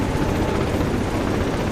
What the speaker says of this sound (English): Oh, it's a medical evac helicopter.